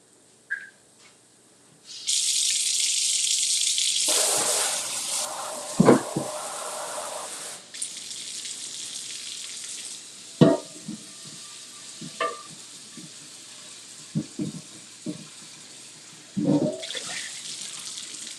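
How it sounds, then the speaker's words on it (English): Hot tap water running into a kitchen sink while a cast iron pan is rinsed on both sides, with a steady hiss of flowing water, scraping knocks and clanks as the pan moves, then quieter drips. "both sides of the cast iron in the sink, just hot water only"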